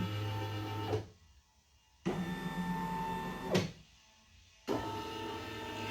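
Motorized embroidery machine moving its hoop to trace the outline of a design, a steady mechanical whir that runs, stops for about a second, then resumes twice, close and fairly loud with no talking.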